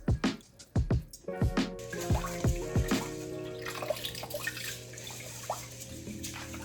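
Murky, starchy soaking water drains from a bowl of washed rice, with splashy pouring and dripping up close, then a steadier trickle that fades out.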